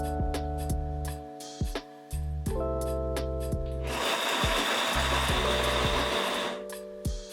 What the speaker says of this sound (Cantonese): 將佢放入攪拌機